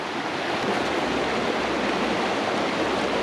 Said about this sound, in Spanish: tenemos aquí agua de montaña, fresca y pura